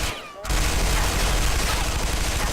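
Sustained gunfire rattles in the multiplayer shooter Interstellar Marines, a dense loud burst starting after a brief quieter moment and continuing without pause.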